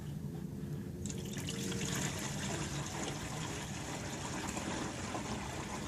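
Maple sap pours steadily into a container outdoors, a continuous gurgling stream of liquid that stays even and fairly quiet for several seconds.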